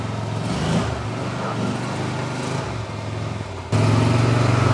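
A Mahindra Retriever 750 UTV engine drones steadily close by, then the revs jump and settle into a louder, deeper hum as the vehicle pulls away, with no talk.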